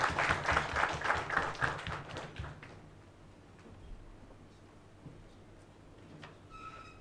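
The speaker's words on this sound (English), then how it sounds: "I request you all to carry out this vote of thanks with a loud applause" Applause for a vote of thanks at a transfer pricing study course, with brisk, fairly loud clapping from a seated group for about two and a half seconds before it dies away to quiet room tone and a few faint taps.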